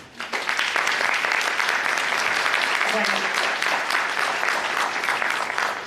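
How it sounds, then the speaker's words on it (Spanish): A warm round of applause from an audience welcoming a speaker to a lecture, loud and continuous for several seconds, with a voice faintly audible beneath the clapping. "La recibimos con un caluroso aplauso"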